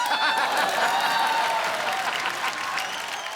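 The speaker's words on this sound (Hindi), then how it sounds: "एक बार अभिषेक भाई के लिए जोरदार तालियां हो जाए।" Steady applause and cheering from a studio audience on a Hindi comedy talk show, dense and continuous for a few seconds, with no speech over it.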